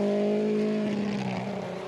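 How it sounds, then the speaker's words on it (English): A Mini rally car with a damaged exhaust manifold racing on a snowy WRC Sweden stage, its rough, droning engine note loud and close before shifting pitch as it passes. "That is still a very sick-sounding Mini."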